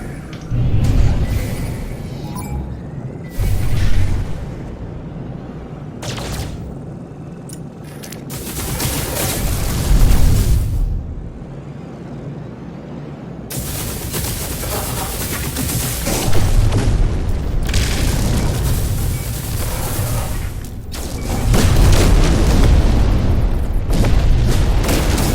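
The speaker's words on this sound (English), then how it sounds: "Destroyed 3 Sentinel ships now." Sentinel ships are blown up in No Man's Sky, sending heavy booming explosions and crackling bursts across a dense, loud stretch of game combat noise with repeated blasts and rumbling.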